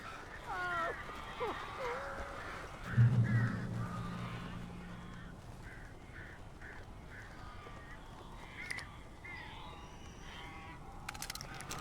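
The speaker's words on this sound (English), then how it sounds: "These birds are weird." Several birds caw harshly in the Alan Wake video game, a short cluster of rough calls near the start and middle, heard against a quiet ambient game background with voices talking.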